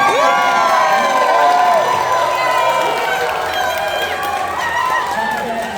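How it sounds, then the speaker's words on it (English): A comic con crowd at a Sonic panel cheers and shouts as the voice actor guests are introduced, a loud continuous roar of voices and whoops with people calling out over it throughout. "Ladies and gentlemen, let's have a round of applause"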